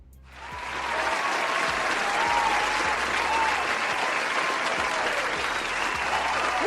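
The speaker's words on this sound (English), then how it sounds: "man, just give Calvin a good hand clap." Applause rises quickly to a dense, steady roar of many hands clapping and holds at an even level to the end.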